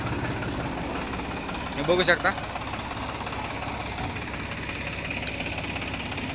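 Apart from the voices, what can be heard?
tractor engine idling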